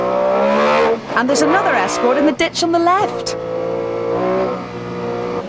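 A WRC rally car engine at the 2001 Toshiba Rally drones and revs from inside Denis Biggerstaff's car, with a commentator talking over it throughout.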